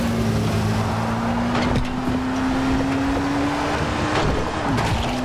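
Car engine drones steadily as a vehicle is driven in the zombie video game Dying Light: The Following, loud and close, with rushing wind and road rumble throughout and no talking.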